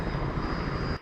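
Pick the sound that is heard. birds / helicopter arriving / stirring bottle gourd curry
helicopter arriving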